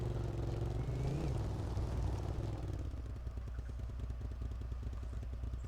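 A ground vehicle engine in the Arma 3 video game rumbles steadily and loudly throughout, shifting midway to a faster, rattling pulse as the engine note changes.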